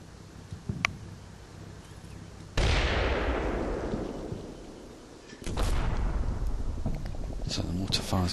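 Mortar fire in the Combat Mission war game: two heavy booming bursts, each a sudden loud blast that decays into a long rumbling roar, with faint sharp pops in between and a voice talking over part of it.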